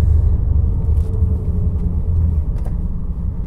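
A supercharged 630 HP BMW E39 M5 drives along a road with a deep, steady engine rumble and low drivetrain drone from inside the car, continuous and moderately loud throughout.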